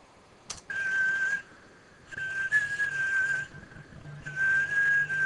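Whistled tones processed with a delay effect, held over a steady noisy background, arriving in three separate bursts, each trailing off with repeating echoes.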